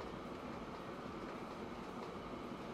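Trains from the railway building game Train Fever rolling along in the distance, a steady low rumble and hiss with faint wheel clatter, continuous and even throughout.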